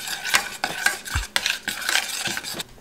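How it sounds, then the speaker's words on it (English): A spoon stirring oatmeal mixed with cacao powder in a bowl, making quick, repeated scraping strokes against the bowl, close and clear, with no talk. "now I'm going to mix everything up just so that it's evenly distributed"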